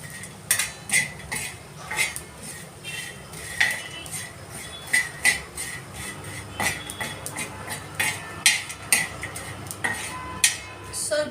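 Dried fish curry being stirred and fried in a pan: a steady, rhythmic run of metal spoon scrapes and clinks against the pan, moderately close and continuing throughout with no talking.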